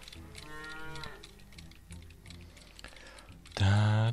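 A cow in the farming game Farmer's Dynasty gives a loud, short moo near the end, following quieter stretches of game sounds and soft clicking like keyboard typing.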